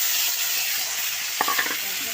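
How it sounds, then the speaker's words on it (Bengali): A ground spice mix of cumin, coriander and turmeric with ginger and green chilli sautéing in a pan, giving a steady close sizzle and hiss with a brief burst of stirring scrapes partway through. "মশলাটাকে একটু কষাইলাম, একটু জল দিয়ে মিশাইয়া একলগে দিয়া কষাইলাম।"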